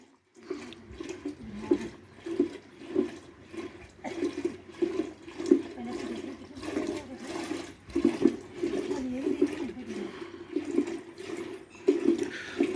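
Curd is churned by hand in a pot for bilona ghee, giving a rhythmic sloshing, swishing of liquid that repeats in steady back-and-forth strokes, close and continuous.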